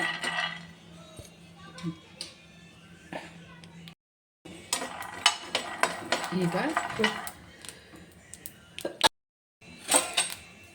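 A spoon scrapes and rattles against a pan as chillies are roasted and stirred, in busy clattering bursts broken by short pauses, with a faint sizzle beneath.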